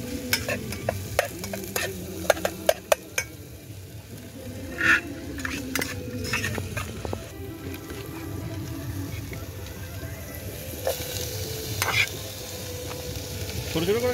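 Vegetables frying and being stirred in a pan at a riverside campsite, a steady soft sizzle with scraping spoon strokes and occasional clinks of utensils, heard up close while voices talk intermittently.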